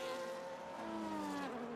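A Ferrari Formula 1 car in the F1 25 racing game screams along on a fast lap of the Canada circuit, its high engine note rising steadily as it accelerates, loud and close, with no voices over it.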